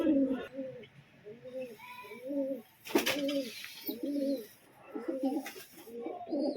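Pigeons cooing while perched in a loft, a regular series of low rounded coos repeating about once a second, close and clear, with a brief sharp noise midway.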